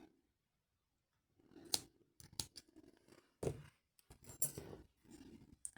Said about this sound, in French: Et je vais couper.